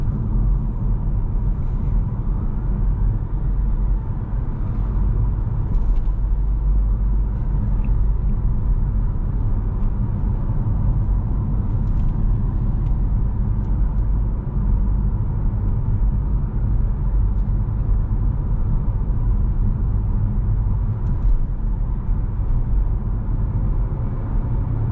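A Kia EV6 GT Line rear-wheel-drive electric car driving on a wet road, heard as a steady, low, continuous road and tyre rumble from inside the cabin, with no voices.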